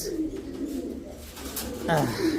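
Black European toy Lahori pigeons coo in a loft, a couple of soft, low rolling coos close by with background voices faintly under them.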